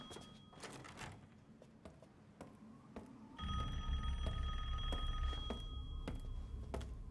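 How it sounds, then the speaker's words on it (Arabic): A telephone rings repeatedly in the video game Resident Evil Village, bright metallic bell bursts at first sparse, then a steady ringing pattern over a louder low rumble in the second half. "دق التلفون دق التلفون"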